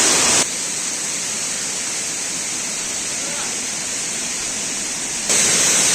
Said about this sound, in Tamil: ஃபால்ஸ் வந்துட்டோம். செம்மையா இருக்கு.